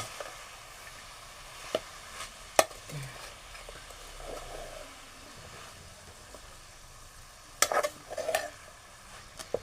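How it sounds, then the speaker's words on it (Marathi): Leafy greens being stirred in a pan on the stove, soft scraping and clinks of a spoon against the pan with faint sizzling underneath, sparse and quiet with a louder flurry near the end. "आता मी पाला ढवळून घेतलाय."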